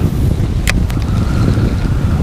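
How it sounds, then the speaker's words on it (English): Breezy, chilly autumn wind buffeting the microphone outdoors while fishing, a steady low rumbling roar with a couple of brief sharp knocks, no talking. "It's been breezy today."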